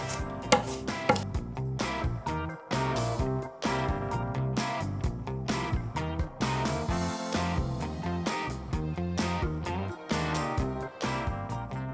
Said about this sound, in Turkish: Domatesi de aynı şekilde bıçakla ince ince keseceğim.